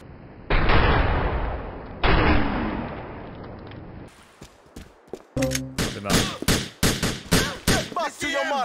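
Gunfire in the snowy Grand Theft Auto IV game: two long booming blasts in the first half, then a rapid run of sharp, loud shots and impacts.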